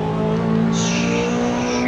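Race car in a WEC racing game at Silverstone braking hard, a steady engine drone joined midway by a high, sustained tire squeal, loud and close, with no talk.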